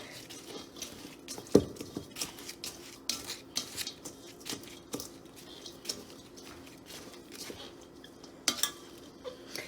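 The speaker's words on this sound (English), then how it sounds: "you can just use any kind of utensil to break it up. We'll mix it up with the white bread" A utensil clinks and scrapes in a dish while breaking up hot cornbread and mixing it with white bread for Southern dressing, soft irregular taps and scrapes close by, quiet and steady with a few sharper knocks.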